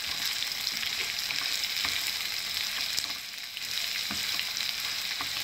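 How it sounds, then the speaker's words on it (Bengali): Onions sizzle steadily in a hot pan as the base for Chinese mixed vegetables, a dense continuous frying hiss with faint stirring clicks and a brief dip midway, heard alone without voices. "এখন আমি পেঁয়াজ দিয়ে দিলাম"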